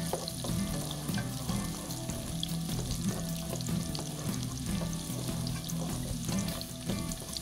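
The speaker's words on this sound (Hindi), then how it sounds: "गाजर डाल के आप फ्राई करें" Carrots fry in a hot pan for tandoori pasta, giving a steady, close sizzle with stirring throughout and no talking.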